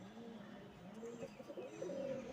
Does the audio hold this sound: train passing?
no